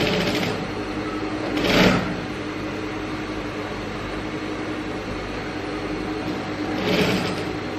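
A sewing machine stitches a baju kurung neckline, a steady close mechanical whir with two louder swells where the stitching speeds up, and no voices.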